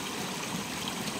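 Steady water flow at a stream's source in Talayog, Occidental Mindoro, an even broadband rush with no breaks and no voices.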